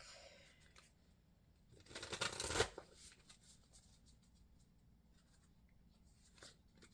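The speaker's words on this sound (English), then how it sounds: "let me get some cards from the Moonology deck." Moonology oracle cards being shuffled in a quick riffling burst near the middle, close and fairly loud, with quieter card handling and light taps before and after.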